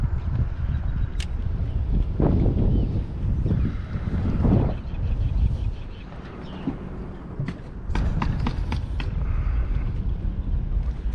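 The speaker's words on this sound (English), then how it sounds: "I apologize for the wind." Strong wind buffets the microphone on a fishing boat in South Jersey waters while out flounder fishing, a loud continuous roar with gusts rising and easing, plus a few light clinks.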